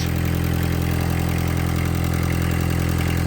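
A barn-find Volkswagen Caddy Mk1 engine idles smoothly and steadily at close range, a continuous even hum with no talking over it.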